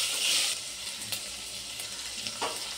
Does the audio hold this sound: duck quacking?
no